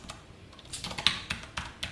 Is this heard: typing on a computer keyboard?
yes